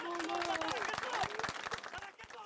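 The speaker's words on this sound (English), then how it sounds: "and a spontaneous moment of applause" Spontaneous applause breaks out among mourners at a journalist's funeral, a dense patter of clapping under crowd murmur and nearby voices, steady and fairly close throughout.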